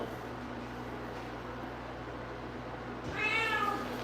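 A single soft cat meow rises near the end over a steady low background hum, faint and close.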